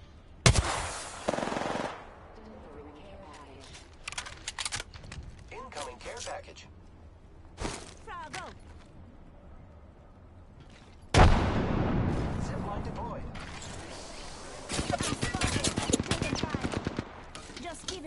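Video game gunfire: scattered single shots and short bursts across a long stretch, building to a dense, loud barrage near the end, with a voice talking in places.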